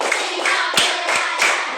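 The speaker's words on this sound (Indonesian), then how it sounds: "Tepuk lima kali." A class of children claps in unison five times in a quick, regular rhythm, each sharp group clap standing out clearly against a faint background.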